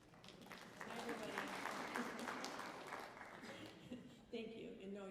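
An audience at a kindergarten orientation claps briefly and moderately, a soft wash of applause in a hall lasting a few seconds before fading, with a voice coming in near the end.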